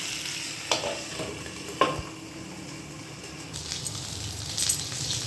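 Kantia fish frying in an Odia-style kitchen pan, turned over as it browns: a steady close hiss of sizzling oil with a few sharp scrapes and knocks of stirring.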